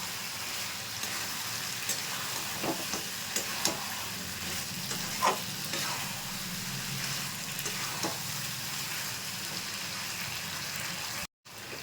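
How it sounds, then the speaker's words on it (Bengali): Spice masala for a chicken curry fries in a pan with a steady, close sizzle, broken by occasional scraping stirs. The sound cuts out briefly near the end. "মশলাটা দিয়ে দিলাম এটাকে একটু ভালো করে কষিয়ে নেব"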